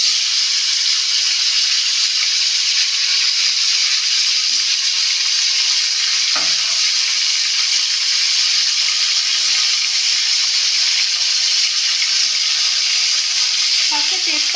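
Potato and cauliflower pieces sizzle steadily in hot oil seasoned with bay leaf and white cumin, a loud continuous fry with a few faint clinks partway through and no talking.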